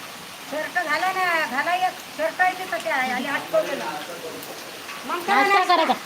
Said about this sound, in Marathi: आमच्याकडे मस्त पाऊस सुरू आहे